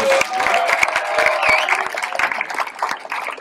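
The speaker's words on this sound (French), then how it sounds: "Vous pouvez les applaudir déjà" An audience at a school slam poetry tournament applauds in a sustained, dense patter of claps, fairly close and steady, with a few voices mixed in and whistle-like tones rising briefly above the clapping.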